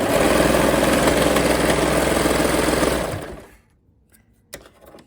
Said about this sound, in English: And then we're going to run it through our serger.